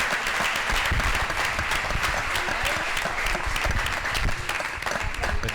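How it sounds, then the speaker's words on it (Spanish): Sustained audience applause at a pharmacy discussion event, dense hand clapping at an even, fairly loud level throughout, with no speech over it. "Un aplauso, ¿no?"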